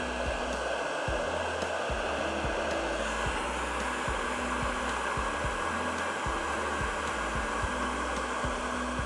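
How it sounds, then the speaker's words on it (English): A handheld heat gun blows hot air in a steady, loud, close whooshing roar with a low throbbing hum underneath, running continuously without a break. "This is a heat gun."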